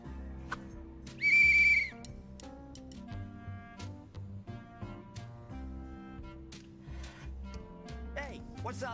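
A loud whistle blast in the Leisure Suit Larry game, outside a police station, a sustained piercing tone lasting about half a second, over steady game music.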